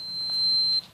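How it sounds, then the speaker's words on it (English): An Arizer Air vaporizer gives one thin, high, steady electronic beep lasting almost a second, clear and close against a quiet room. "that little beep was my Arizer Air going off"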